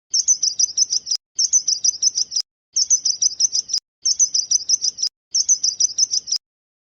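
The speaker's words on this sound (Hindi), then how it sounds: "चलो सुनते हैं गौरैया कैसे बोलती है।" A sparrow chirps in five quick bursts of rapid, high tweets separated by short silences, clear and close with nothing else heard.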